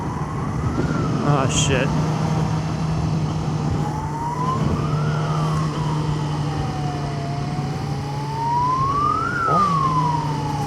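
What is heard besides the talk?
ambulance siren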